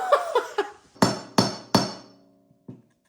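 Hammer blows drive a small handmade wooden dowel into a deadblow log splitter head on its handle: three loud, sharp impacts about a third of a second apart after lighter taps, then a faint final knock.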